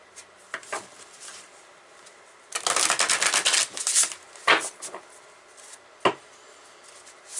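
Guardian Angel Tarot cards shuffled by hand: a few soft riffling bursts and taps, then a dense flurry of crisp card slaps, with sharper isolated snaps afterwards. No one speaks.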